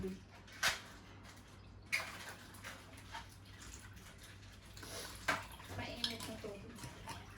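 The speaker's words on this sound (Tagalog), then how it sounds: "Dinagdagan ko ng konti ng tubig." A little water is added to a cooking pot of potatoes. Sharp metallic clinks of pot and utensils come through over soft splashing, while people talk quietly nearby.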